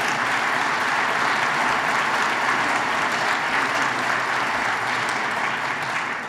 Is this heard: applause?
yes